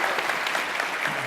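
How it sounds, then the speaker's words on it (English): A breakfast audience gives a panel a brief, dense round of applause, the clapping even and continuous with no talk over it. "let's give the panel a round of applause"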